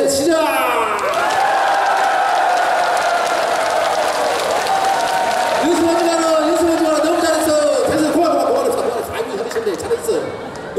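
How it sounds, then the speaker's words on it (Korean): An outdoor festival audience at an opening celebration performance claps in unison and cheers together, a loud sustained wave of applause and shouting that thins into scattered claps and chatter near the end. "일제히 박수 치면서 함성 박수"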